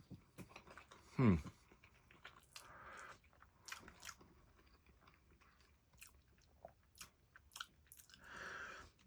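Someone eats Russian IRP military ration corned beef hash, beef with grains, from a 2022 breakfast menu, with quiet close bites and chewing, a loud crunch near the start and small clicks between mouthfuls.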